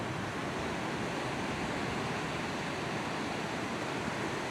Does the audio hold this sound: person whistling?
no